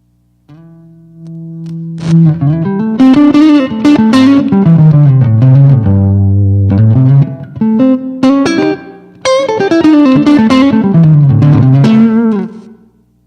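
An electric guitar plays a lead line through an amp with a touch of reverb, loud and close, phrases sliding between notes with short pauses and lingering tails, no voices.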